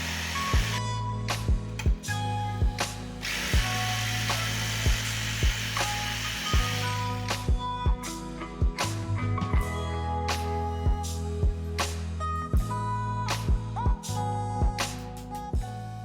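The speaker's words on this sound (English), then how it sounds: "With the holes cut, we just need to join them together using a jigsaw." Jigsaw cutting wood outdoors, a loud continuous buzzing saw broken by frequent short stops and restarts across the whole stretch.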